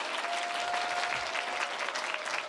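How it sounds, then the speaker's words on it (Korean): Steady audience applause welcoming a presenter at a Korean community presentation event on disability group homes, with many hands clapping continuously and evenly at moderate volume and no speech over it. "큰 박수로 맞이해주세요"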